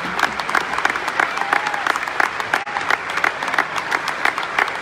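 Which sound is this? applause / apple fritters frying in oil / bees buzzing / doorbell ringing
applause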